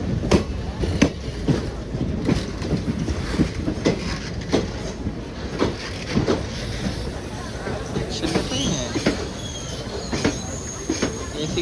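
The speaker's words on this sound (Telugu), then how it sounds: "చెన్నై ఎగ్మోర్ పుడుచేరి ఎక్స్ప్రెస్." Chennai Egmore–Puducherry Express rolling past, with repeated rhythmic wheel clacks over a steady rumble and a brief high squeal near the end, fairly close, with faint voices in the background.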